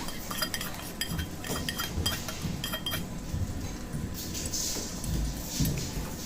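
Metal utensils clink and scrape against a pan while fried cabbage is served out, a run of light, irregular taps, with a low kitchen hum underneath and no talking.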